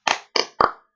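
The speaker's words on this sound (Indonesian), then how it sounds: "Tepuk semangat" A class claps out a rhythmic spirit clap in three sharp, evenly spaced bursts, loud and close, with nothing else heard.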